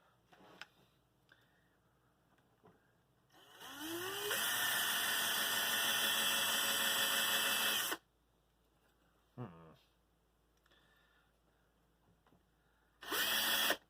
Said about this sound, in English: We need to also drill a similarly large hole in it.